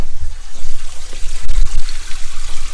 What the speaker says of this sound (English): Why is this water not going down that drain?